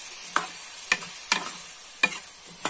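Spices stirred in a pan of frying aloo matar sabji cooked over a coal stove, a sizzle under five sharp, evenly spaced scrapes of a spoon against the pan, close and fairly loud, no talk.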